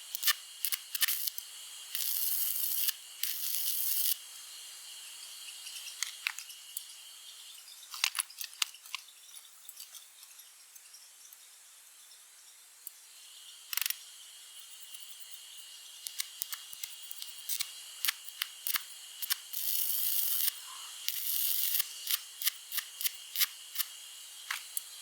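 Arc welding on a homemade bench vise, giving a steady high hiss broken by bursts of sharp crackling and sputtering, close and fairly loud, alone with no talk.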